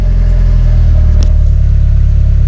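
A VW Golf 2 Turbo engine revs under acceleration, a loud, close, steady low rumble that holds through the short span with a faint whistle partway through.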